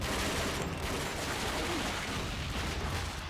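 Dense gunfire in the Call of Duty Finest Hour war video game, a constant loud wash of rapid shots and blasts with no pause.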